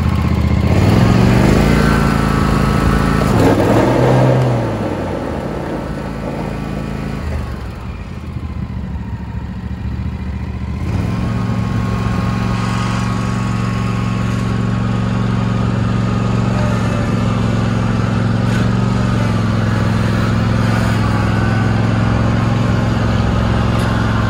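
Engine of a Toro TimeCutter SS5000 zero-turn riding mower starting and running, a steady loud drone close by that dips briefly after a few seconds, then settles into a constant idle hum.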